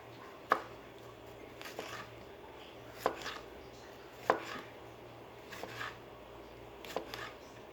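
A knife cutting tomatoes on a board for ginisang talong, producing sharp isolated chops spaced a second or more apart over a quiet background hum.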